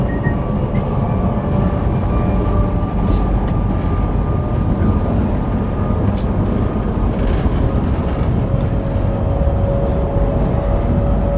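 Constant low rumble and hum of a moving passenger train from Johor Bahru to Kuala Lumpur heard from inside a carriage, with faint squeals and rattles over the steady drone.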